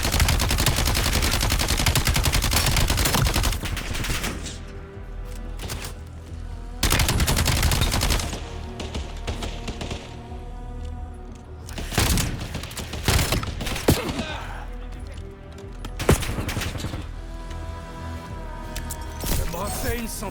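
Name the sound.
sniper gunfire in video game Black Ops 7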